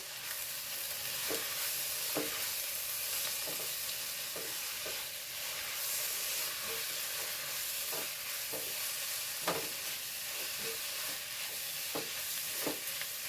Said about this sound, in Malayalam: ഇളക്കി കൊടുക്കാം കേട്ടോ